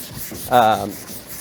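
A sanding block is drawn across a painted Subaru STI body panel with 600-grit paper, giving a short, close rubbing stroke that rises into a brief squeaky scrape.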